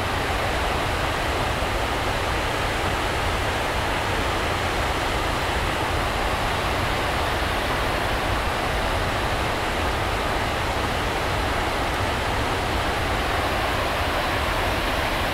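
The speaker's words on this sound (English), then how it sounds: "We have the Raquette River." The Raquette River in mid-February rushes past ice-crusted rocks and a dam, a loud, unbroken roar of flowing water that holds steady throughout.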